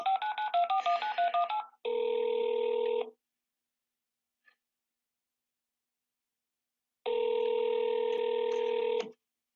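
Telephone touch-tone dialing: a quick run of short beeping tones, then a steady two-tone signal held for about a second, a long silence, and the same steady tone again for about two seconds, clear and alone.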